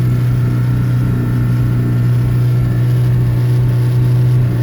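A Chevy Tracker engine on a cold start idles high and loud with a steady droning hum close by, holding constant with no talk.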